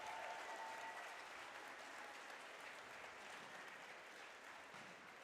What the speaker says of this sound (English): I would like to give him a big round of applause